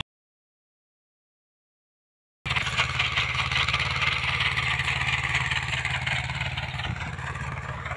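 A Mahindra diesel tractor used for rotavator farming runs at a steady idle, a low rumbling engine drone that starts abruptly after a couple of seconds of silence and holds evenly, fairly close.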